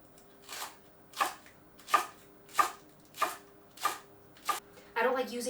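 Washed scallions chopped with a knife on a board, seven evenly spaced crisp cuts close by, followed by a short burst of rustling and handling at the end.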